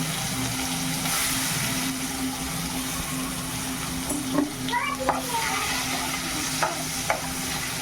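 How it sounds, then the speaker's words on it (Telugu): Onions sizzle in hot oil with mustard seeds, cumin and turmeric for a dry fish curry, a steady frying hiss with scattered spoon scrapes and clinks against the pan, no voices. "వేగాక ఉల్లిగడ్డ వేసుకోవాలి."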